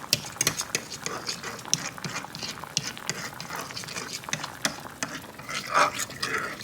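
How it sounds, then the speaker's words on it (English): A fork stirs and scrapes through a warming sauce in a pan during a chicken breast recipe, with beans cooking alongside, making a steady run of quick metallic clinks and scratches close up, with no talking. "Just use the fork to make sure everything is blended and there's no chunks"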